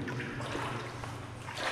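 Water sloshes and splashes steadily as someone wades through a flooded underground air-raid tunnel, a close, continuous churning with no voices.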